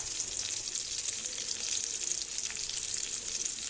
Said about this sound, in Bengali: শুটকি পেঁয়াজের সাথে একটু শুটকিটা ভেজে ফেলবো